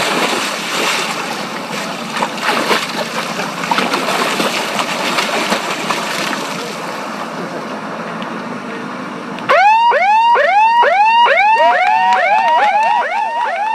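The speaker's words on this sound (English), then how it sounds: "stick your hands above your head, and then wait for the siren" Outdoor wind and sea noise from an English Channel swim start, then a loud, rapid electronic siren whoops repeatedly for the last few seconds.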